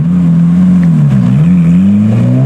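A Ferrari race car engine accelerates on a public street, heard from inside the cabin as a loud, steady low drone that rises and dips slightly in pitch as the throttle opens.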